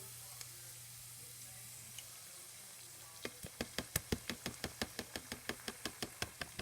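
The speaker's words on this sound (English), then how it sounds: "The rice is all done, so I'm going to put the eggs in." Eggs frying in a pan with a steady, regular series of sharp knocks as they are cracked or stirred against the rim, following a quieter stretch of faint sizzle.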